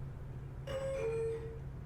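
A two-tone doorbell ding-dong chimes once in The Stanley Parable video game, the higher note followed by a lower one, fairly clear over a steady low background hum.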